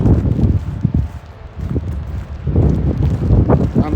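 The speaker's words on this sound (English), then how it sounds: "on the trail at Windy Pass, and it is windy" Wind gusting on the mountain trail at Windy Pass in Torres del Paine, Patagonia, in rain, rough buffeting bursts of wind noise hitting the microphone close up, easing briefly before surging strongly again.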